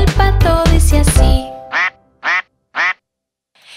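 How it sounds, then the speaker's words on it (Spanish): Three loud, evenly spaced duck quacks stand alone after a short burst of bright music in a Christian children's song about Noah's ark. "Quieren oír cómo hace el pato. Quieren oír, el pato dice así."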